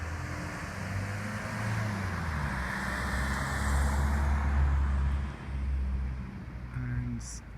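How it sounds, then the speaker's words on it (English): Large lorries rumble past at night near the Salisbury rail crash site, a continuous low engine drone and road noise rising and easing as the heavy vehicles go by at a moderate distance. "So I'm just going to film some more lorries."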